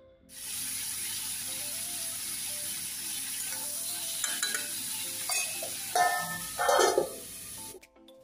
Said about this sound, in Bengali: আজকে এইভাবে রান্না করে কষায় আলু একসাথে দিই।